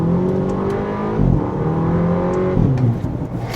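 Volkswagen Polo GTI in sport mode revving and accelerating, a close engine drone rising in pitch twice with short gear-change dips, heard alone without talk.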